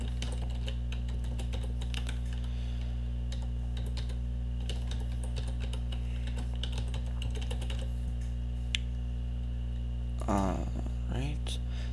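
Typing on a computer keyboard while filling in IMAP email account fields in Outlook, a steady run of light, fast key clicks with a brief louder tap near the end over a constant low hum.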